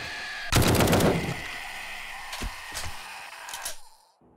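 A heavy weapon fires in 7 Days to Die during a horde night, a loud burst of rapid shots up front followed by a few scattered, sharper single blasts before cutting off.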